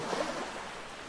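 Rushing water roars like a waterfall in a video game, a steady broadband wash with a brief swell near the start that then holds evenly.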